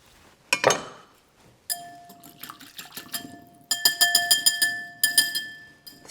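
Metal whisk clinking rapidly against a glass bowl while mixing chopped basil into a salad dressing, close and bright, in several bursts of quick rhythmic taps with brief pauses between them.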